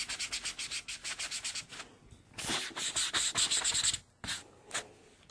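Rubbing-alcohol-soaked material scrubbed back and forth to rub ink off a small craft item, a steady run of short close rhythmic rubbing strokes, a brief pause, then firmer irregular scrubbing bursts.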